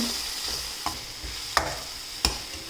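Ginger and green chillies being sautéed in a pan for a pumpkin curry, with a faint steady sizzle broken by a few sharp scrapes of a spoon stirring, close and quiet, with no talking.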